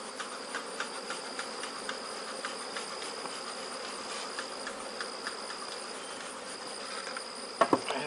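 Honey bees buzz steadily from two 5-frame medium nucleus colonies, a dense, even insect drone held close throughout, with a few faint clicks and a brief handling knock near the end.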